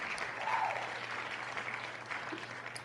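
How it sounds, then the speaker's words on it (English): Applause sound effect playing during a sports talk stream about the 49ers, a soft, steady patter of clapping heard faintly throughout under a low hum. "I love the clapping"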